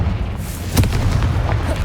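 Confringo blasting curse explosion in the Hogwarts Legacy video game: a single booming blast with a sharp burst, followed by rumbling game ambience, no talking.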